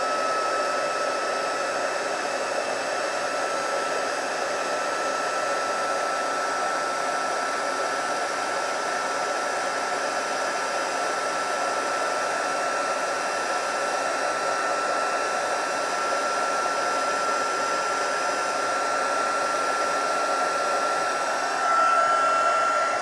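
A heat tool warms embossing powder on a stamped card, giving a steady, unbroken blower whir at close range throughout, with no one talking.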